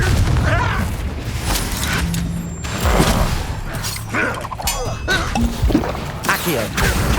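Confringo fire spell blasts in the Hogwarts Legacy video game, loud bursts and booms layered with clanking mechanical effects and game music, dense and continuous throughout.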